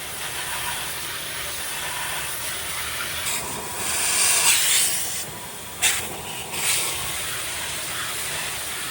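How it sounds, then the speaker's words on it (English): Wet Coat spray is applied to a car wheel and then rinsed off, giving a steady hiss of water spray with brief louder bursts and splashes partway through, close and without talk. "G on wet coat, spray on and rinse off immediately."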